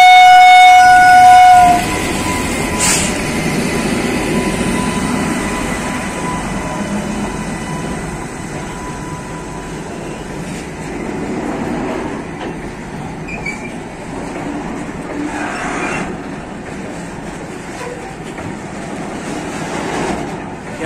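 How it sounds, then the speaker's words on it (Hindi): A train rolls slowly past on a reopened track after a rail accident near Etawah, heard as a steady, loud rumble of wheels and cars throughout, with a brief horn-like tone at the start. "आप देख सकते हैं यहाँ से ट्रेन गुजर रही है और बहुत स्लो गुजर रही है"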